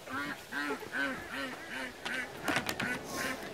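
Ducks and geese in a backyard flock quack and honk in a quick repeated series, with steady rhythmic calls followed by a busier cluster of overlapping honks and rustling, close and loud.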